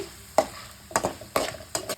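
A spoon scrapes and stirs a tempering in a pan for amla pickle in four sharp strokes, with a light sizzle of frying underneath.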